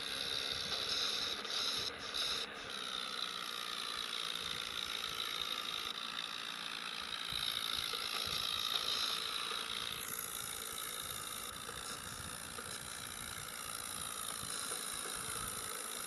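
A modified tractor's engine labours hard as it climbs a hill, a steady loud rumbling drone with a knocking edge that holds throughout without a break.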